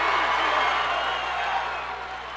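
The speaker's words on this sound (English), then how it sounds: "There you see a little bit of celebration on the North crowd." A high school basketball crowd at Sheboygan North cheering after a three-pointer before halftime, a loud broad roar of voices that slowly fades over a couple of seconds.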